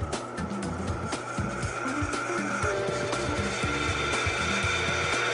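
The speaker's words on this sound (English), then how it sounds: "Now it's time to drill." A power drill whines steadily into a metal flywheel, a continuous grinding, buzzing drone with rattling vibration, close and loud throughout.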